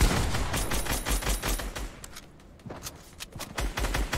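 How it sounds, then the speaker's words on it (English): Rapid video game gunfire in a duo gauntlet endgame, with dense bursts of automatic shots rattling almost continuously, loud and close, easing briefly midway before resuming. "Yeah, I'm shooting at those guys."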